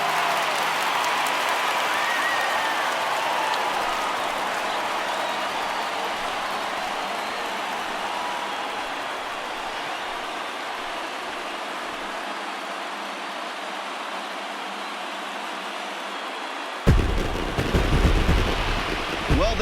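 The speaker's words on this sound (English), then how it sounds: "this stadium is rocking right now as they celebrate something they'll remember forever" A packed stadium crowd roars in celebration after clinching the World Series at home, a dense, sustained wall of cheering that holds steady, then swells louder near the end.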